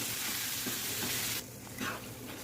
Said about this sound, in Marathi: हा मस्त आपण फ्राय करून घेऊ कढईत खवा